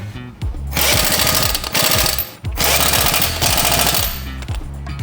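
An impact wrench tightens car wheel lug nuts during a tire change, firing three loud, close bursts of rapid hammering rattle separated by short pauses.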